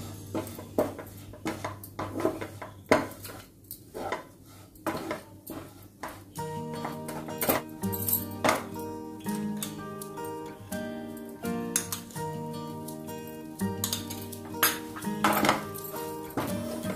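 Besan (gram flour) is roasted and stirred in a pan for besan laddu, with irregular scrapes and clinks of a utensil against the metal pan, close by and moderately quiet, over a faint steady hum.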